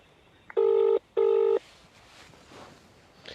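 A telephone call rings out: two short, loud electronic ring bursts in quick succession, each under half a second, followed by a faint, quiet line.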